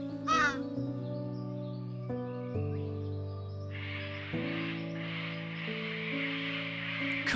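A single rasping raven caw sounds near the start, followed by a long hissing, static-like wash over steady background music.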